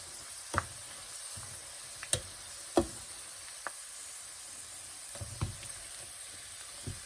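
Pork skin frying in oil for Thai-Lao pork rinds, a steady faint sizzle with scattered sharp pops and crackles spaced irregularly through the clip.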